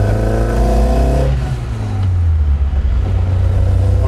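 A modified Honda with a swapped dual-beam engine fed by individual throttle bodies revs hard, its loud close exhaust note rising in a sharp harmonic sweep then dropping back to a deep rumbling idle.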